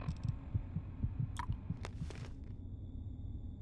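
A steady heartbeat effect from the video game Fallout 3 thumps in a low, regular rhythm throughout, with a few brief higher clicks and whooshes from gameplay over it before it fades.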